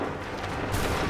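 Musket volley in Assassin's Creed 3, a dense burst of rifle fire with no single crack standing out, sustained for about a second at steady moderate loudness.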